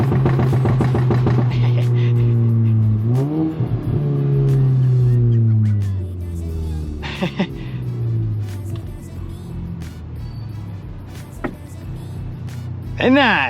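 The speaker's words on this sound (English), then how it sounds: "We can hear some nice downshifts though." Volkswagen MK7 GTI with a catless downpipe and stage 2 tune, its engine rumbling loud and close as it downshifts, with rising and falling rev sweeps and pops over a steady road drone.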